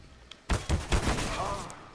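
Gunfire in the video game CS:GO: a quick series of four or five loud, sharp shots in close succession, then a lingering noisy tail.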